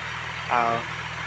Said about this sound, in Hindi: ट्रैक्टर पाखु आउची देखंतु